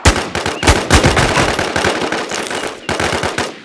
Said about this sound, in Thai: ยิงต่อไปยิงต่อไป